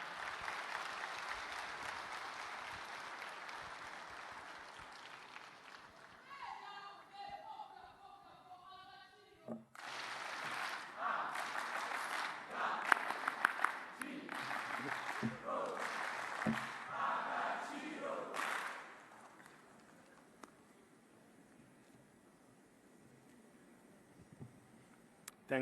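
An audience welcoming Rwanda's Prime Minister Dr Ngirente Edouard at the Youth Connekt Africa opening breaks into sustained applause that swells and lasts about ten seconds before fading, with talk before and after.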